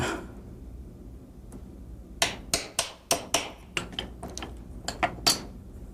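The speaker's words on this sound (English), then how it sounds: "And then you'll have to take your old hammer and knock the pin out of it." A hammer knocking the pin out of a 1911 pistol hammer, a rapid series of about a dozen close, sharp metallic taps after a quiet start.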